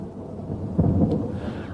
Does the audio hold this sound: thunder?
yes